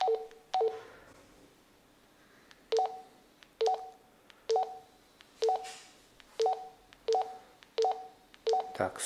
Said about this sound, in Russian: постоянно она принимает какую-то помеху, хотя я даже сейчас шумодав уже загрубил